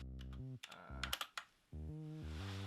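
A few quick clicks on a computer keyboard, run together in a short burst between sustained musical tones, as tracks are armed in Universal Audio LUNA recording software.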